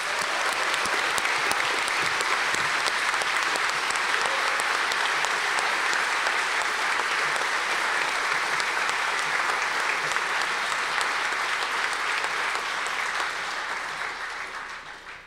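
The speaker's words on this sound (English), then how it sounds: "Let's give them a round of applause." Sustained applause from a large audience at a university medical college commencement, dense steady clapping that carries on for many seconds before starting to fade at the end.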